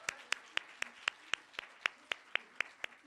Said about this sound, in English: let's give a round of applause for everyone who came up and graced the stage